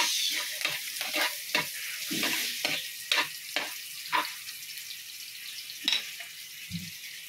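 Shrimp with red chili fry in a pan with a steady broadband sizzle, broken by about a dozen sharp scraping stir strokes at an irregular rhythm, close and moderately loud, with no talk.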